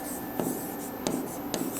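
A pen or marker writes on paper during an English grammar lesson, giving three brief scratchy strokes, close and fairly soft over a steady hiss.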